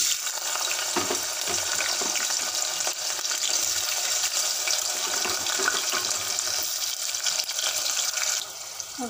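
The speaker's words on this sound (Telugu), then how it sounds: "2 స్పూన్ల నూనె వేసినాక పచ్చిమిరకాయలు వేసుకోవాలి. పచ్చిమిరకాయలు, ఉల్లిగడ్డలు," Green chillies and onions fry in a little oil with a loud, steady hiss and fine crackle, close up and continuous. Small bumps of stirring sound through it, with no voices.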